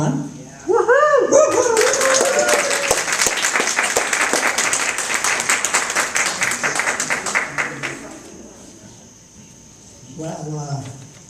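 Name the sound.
audience applause welcoming moderator Don Avalon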